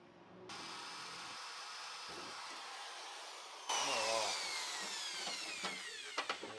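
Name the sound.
drilling out metal part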